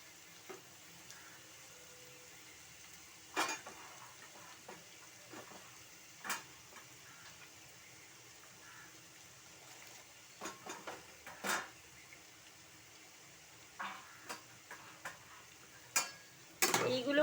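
Potato, radish and cauliflower being stirred and fried in a pan, a soft steady sizzle with scattered scrapes and clinks of a utensil against the pan, fairly quiet and close, with a louder burst of stirring near the end.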